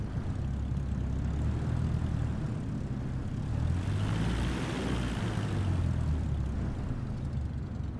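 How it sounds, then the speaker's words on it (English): Propeller airplane engine in a flight simulator game, a steady droning hum with low rumble that swells slightly midway, continuous and fairly close, with no talking. "Goddamn plane in our way."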